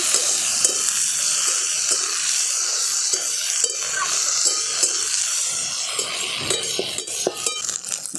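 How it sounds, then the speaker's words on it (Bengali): Okra sizzles in a pan under steady frying crackle, with repeated spatula stirs and scrapes against the metal. "ঢ্যাঁড়সগুলো একটু হালকা ভাজা ভাজা করে নেবো"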